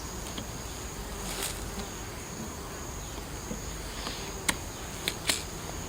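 Steady, low buzzing of honeybees at a hive fills the air, with a few sharp clicks and taps standing out near the end.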